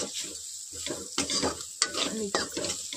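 Bitter gourd (karela) pieces stirred in a frying pan, with a steady sizzle and repeated scraping strokes of the spoon close by, a few sharper clacks against the pan.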